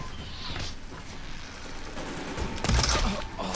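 Gunfire in the video game Horizon Forbidden West: scattered shots crackle over an ambient backdrop, then a loud cluster of blasts hits before fading.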